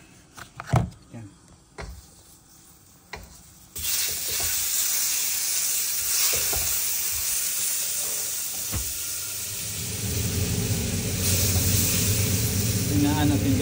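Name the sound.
chicken frying with butter in a pan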